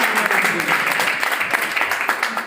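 Audience applause at a direct selling seminar, a dense steady wash of clapping filling the room for a couple of seconds with no pauses.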